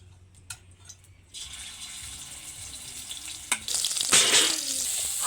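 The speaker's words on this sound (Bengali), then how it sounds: "তেলের মধ্যে দিয়ে দেব আদা রসুন বাটা" Ginger garlic paste drops into hot mustard oil in a kadai, starting with faint clinks and handling, then breaking into a loud, steady sizzle and crackle that continues to the end.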